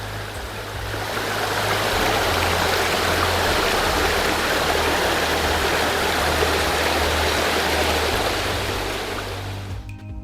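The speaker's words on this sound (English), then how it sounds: "Came upon this really pretty cascades, Chesqua Branch." A small mountain stream cascades over rocks on Chesqua Branch in the Smoky Mountains, a steady, close, full rush of water that fills the whole stretch without a break.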